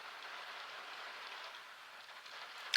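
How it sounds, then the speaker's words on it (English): Heavy rain falls outside as a soft, steady hiss that sounds distant and muffled. It holds at an even low level, with one small knock near the end. "The rain is crazy."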